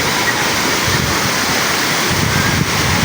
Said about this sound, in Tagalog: Dami niyang falls mga guys.